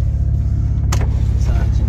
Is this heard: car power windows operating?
yes